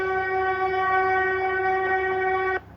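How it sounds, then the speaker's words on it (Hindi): A train horn sounds as the train arrives at a station, one loud sustained chord-like blast held steadily for over two seconds before cutting off abruptly. "देख ट्रेन आ गई"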